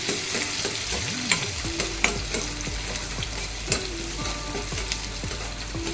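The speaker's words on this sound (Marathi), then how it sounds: "आता आपल्याला कांदा टाकायचा आहे कांदा थोडा शिजू देऊया" Onion fries in a pan for stuffed bitter gourd. A dense, steady sizzle runs throughout, with repeated scraping strokes from a spatula stirring and a few light taps.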